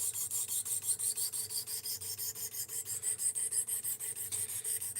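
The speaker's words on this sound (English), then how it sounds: "we wiped the edge out, so we got to sharpen it" A knife blade being sharpened on a Work Sharp RMX, a close, rhythmic rasping scrape repeating about three times a second in even strokes, with no voices.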